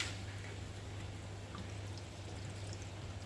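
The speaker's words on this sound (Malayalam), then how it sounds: "നാരങ്ങ ജ്യൂസ് ഒഴിച്ചു കൊടുത്തു." Lemon juice poured over fish being readied for the oven gives a soft, steady stream of liquid running for several seconds, close and fairly quiet, over a low constant hum.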